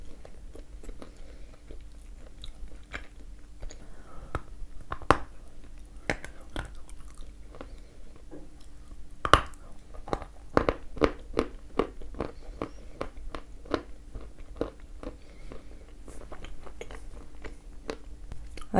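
Biting and chewing a firm, dense Ryzhik (Podsolnukh) fruit variety, with a string of sharp, close crunchy bites and chews spread evenly through the clip, alone, with no talk.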